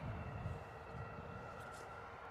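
Engines of an EasyJet Airbus A320neo at Bristol Airport in wet, stormy weather, a steady distant roar with a faint high whine, alone and fairly quiet.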